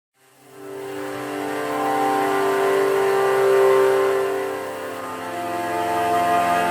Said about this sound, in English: I used the Friktion synth on the noise cello mod wheel setting